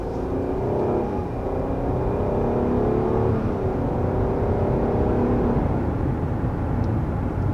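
A 2021 Nissan Murano Platinum with a CVT accelerating, its engine note rising steadily with simulated stepped gear shifts, a continuous loud drone heard from inside the cabin with no talking.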